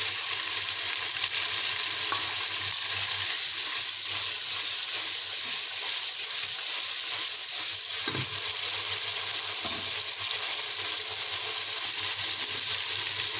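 Cumin seeds sizzle in oil in a pan, a dense, continuous frying hiss with a few soft stirring knocks, close and steady throughout.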